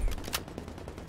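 Quick automatic gunfire from an enemy in The Division 2: Warlords of New York, with a short burst of close, loud shots in rapid succession.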